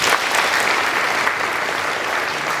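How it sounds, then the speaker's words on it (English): An audience at a university finalists' celebration claps steadily for the outgoing group, a dense, sustained round of applause filling the room without pause. "Can we please give them a clap?"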